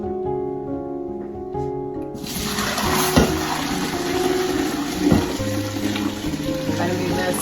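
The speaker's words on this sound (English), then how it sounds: "we're gonna strain out the bones and the skin and all the other things" Turkey bone broth pours through a fine mesh strainer into a pot, a steady watery rush starting abruptly and continuing to the end, with a couple of soft clinks along the way.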